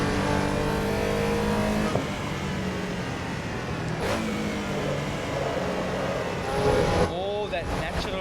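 A Porsche race car slides around Donington in Assetto Corsa EVO, its engine droning steadily with rising and falling revs, tyre scrub and occasional shifts, loud and continuous throughout.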